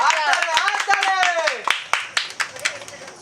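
An audience at a Kali Puja prize-distribution gathering bursts into loud, sharp hand claps that ring out one after another, following a stretch of clear talk.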